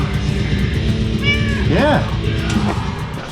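A cat meows in a garage where a car's front suspension is being installed, with a rising and falling call near the middle over constant background hum and some talk.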